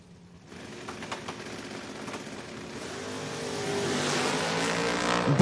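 Two drag cars, an '86 Chevy S10 and a Camaro, launch side by side at a Door Wars race event, engines roaring and building steadily louder as they accelerate down the strip, alone without talk.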